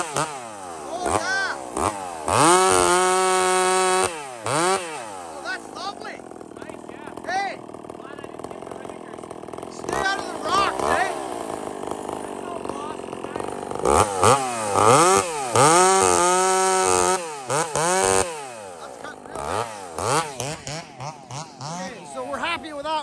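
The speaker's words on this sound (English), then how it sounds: "That saw's still idling." A Husqvarna 371 chainsaw used for felling trees runs close by, revving hard in bursts and then dropping back to idle, loud and harsh, with someone talking in between.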